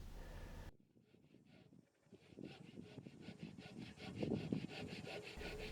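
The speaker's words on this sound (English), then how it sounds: "The Japanese pull saw makes short work of it." A Japanese dual-edged pull saw cuts through timber subfloor bearers, steady rhythmic rasping strokes repeating close up and growing louder toward the end.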